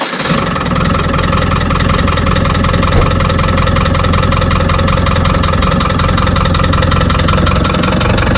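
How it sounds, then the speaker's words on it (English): Ford Raptor engine after fitting a fuel pump spacer, starting and then idling: a loud, steady, close mechanical rumble with even knocking pulses that continues without a break. "Now I'm just going to turn the key, I'm going to grab my beer so it doesn't fall off the radiator and see if this starts."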